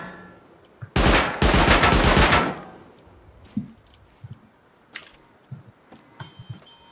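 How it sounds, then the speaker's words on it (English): Automated turret in the game Rust opening fire: a loud, dense burst of rapid gunfire lasting about a second and a half, followed by scattered quieter thumps and impacts, no talking. "They just got lit up by the turret. That's me getting hit by turret."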